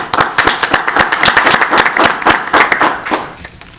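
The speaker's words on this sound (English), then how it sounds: "All right, round of applause, please." Applause at a town council meeting in Apex, a modest group clapping with distinct individual claps forming a lively uneven rhythm, close and fairly loud, tapering off toward the end.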